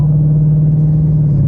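A car engine idles as it warms up on E85 fuel, a steady loud drone with a strong, constant whine running throughout, with no other sounds.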